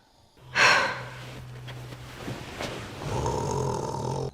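A sleeping husband snores in a bedroom, giving a loud snorting breath followed by raspy, rumbling inhales and exhales close by.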